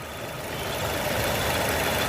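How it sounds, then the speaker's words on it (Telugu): A 2021 Maruti Suzuki Ertiga ZXI+ petrol engine idles steadily up close, a smooth, even hum with no voices over it. "డ్రై ఇంజిన్ చక్కగా ఉంది, చాలా స్మూత్ ఇంజిన్ సార్"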